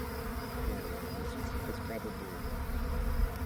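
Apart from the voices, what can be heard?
swarm of honey bees buzzing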